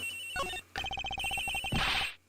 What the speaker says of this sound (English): The ringing's coming from in here, sir.